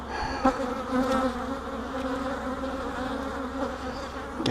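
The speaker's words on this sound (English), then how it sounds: "God, there's so many bees on these frames." Crowded honey bees on hive frames with brood fill the air with a constant, close buzzing drone, steady in level with small flickers of movement throughout.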